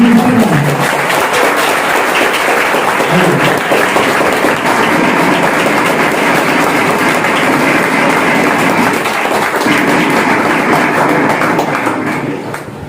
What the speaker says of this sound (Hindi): प्लीज तालियों से स्वागत करें